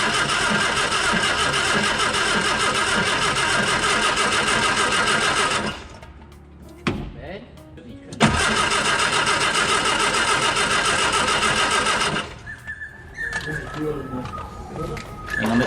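A 1959 Austin Healey Sprite engine cranks on the starter in two long continuous churning bursts separated by a pause, then short clanks and a brief sputter, loud and close, with people talking at points.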